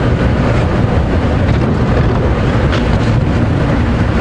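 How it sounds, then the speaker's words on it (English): A safari vehicle on an afternoon game drive at Djuma Game Reserve, its engine running as a steady, loud, broadband rumble with wind buffeting the microphone and no voices. "I'm just going to turn off the engine and freewheel down the hill."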